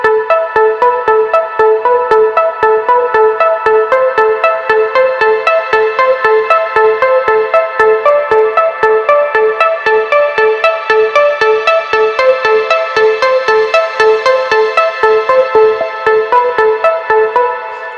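Layered synth pluck melody in a trance lead from a track, rapid bright plucked notes repeating steadily and loudly throughout, heard alone.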